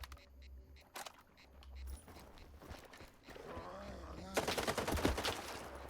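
A few loud gunshots from a shotgun in a video game crack out in a cluster near the end, amid rough roaring creature sounds and other game noise.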